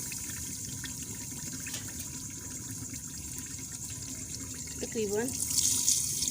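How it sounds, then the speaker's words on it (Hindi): Water pouring into a cooking pot of katwa gosht, a slow-cooked mutton dish, a steady broadband wash that swells toward the end, heard beneath a woman's speech. "अब हम इसमें ऐड करेंगे पानी"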